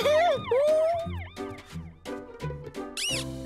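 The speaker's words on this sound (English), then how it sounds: "It's got a siren!" A toy siren wails up and down in rapid electronic sweeps, loud and close, with a squeaky warbling tone and a few chirps toward the end.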